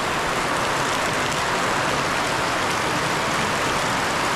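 Heavy rain pouring down just ahead of a typhoon, a dense, loud, unbroken hiss of water with no letup and no voices.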